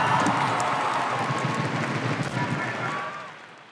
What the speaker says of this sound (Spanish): Démosle un fuerte aplauso a todos los compañeros que se presentaron esta noche